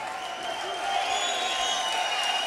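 A boxing crowd applauds and cheers after a fight, a broad, continuous wash of clapping and voices heard at a moderate distance.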